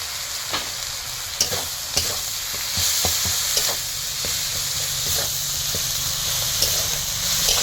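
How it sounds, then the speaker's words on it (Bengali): Ginger paste and turmeric masala sizzle in hot oil in a pan while a spoon scrapes and stirs through it, with a steady hiss and scattered sharp clicks throughout. "এবার মশলাটা দেখুন, একটু জল দিয়ে মশলাটাকে আরেকবার একটু ভাজবো।"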